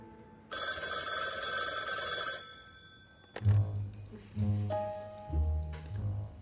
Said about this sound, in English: And when the phone rang at the Pant Archive in Oxford